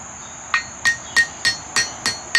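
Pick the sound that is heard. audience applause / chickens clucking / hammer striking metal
hammer striking metal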